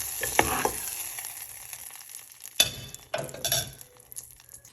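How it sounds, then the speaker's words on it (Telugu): Tomato puree stirred in a frying pan for tomato rasam: quiet bubbling sizzle broken by a few bursts of spatula scraping and metal clinks against the pan, with lulls between them. "ఇందులో మనం గ్రైండ్ చేసి పెట్టుకున్న టమాటో ప్యూరీని వేసేసుకోవాలి. వేసుకొని ఇలా ఒకసారి కలబెట్టుకొని"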